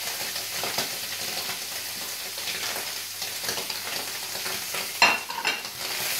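Lamb liver and onion sauté in a pan with very little oil, producing a close, steady sizzle under stirring and tossing, with a sharper clatter near the end and no talk.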